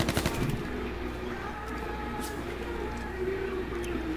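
Gunfire in the H1Z1 survival video game, a burst of sharp shots at the start followed by dense, continuous battle noise that stays loud throughout.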